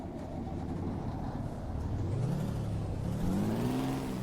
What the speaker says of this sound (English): Now that sounds like an old school truck engine.